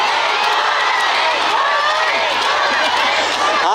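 A large outdoor festival crowd at a singer's concert in Ilsan Culture Plaza, a dense sustained roar of many voices and cheering, loud and continuous throughout without a clear rhythmic chant.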